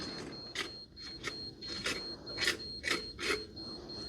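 A leveling device gives a faint, unbroken high beep while concrete ceiling formwork is set up on a building site, with sharp knocks and clatter breaking in every half second or so.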